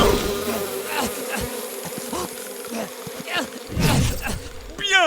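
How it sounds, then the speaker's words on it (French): Cartoon bee buzzing inside a cardboard box, a continuous insect drone that wavers in pitch with several louder swells, cartoon voices and effects heard over it. "une abeille"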